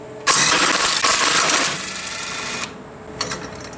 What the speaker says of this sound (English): I know you're probably not supposed to use an impact on head bolts, but I'm just loosening them.